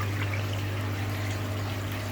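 Water trickles and splashes softly as a kohaku koi is eased back into its pond or tank, a brief continuous pour over a steady low pump hum.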